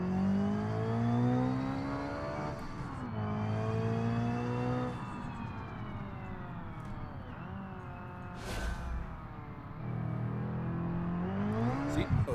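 A racing-game car in RLS Career Mod pulling away, its engine droning and rising in pitch through several gear shifts, steady and loud throughout the run.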